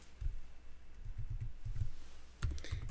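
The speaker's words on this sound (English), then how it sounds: "And now I'm going to type in seasons." Quiet bursts of typing on a computer keyboard while entering data into a spreadsheet, short clusters of soft key clicks separated by brief pauses, close and alone without talk.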